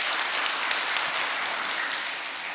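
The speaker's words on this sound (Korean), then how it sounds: "참 부모님께 다시 한번 감사의 박수를 올려주시면 고맙겠습니다" An audience applauds at a peace blessing ceremony, sustained dense clapping from a large crowd that holds steady and then eases slightly, with no voice over it.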